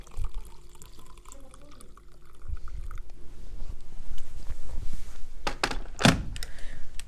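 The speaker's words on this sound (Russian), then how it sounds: "наливаем горячую воду." Hot water poured into a vessel with berries to make a Yakut berry drink, a steady splashing stream building over several seconds after a few soft knocks.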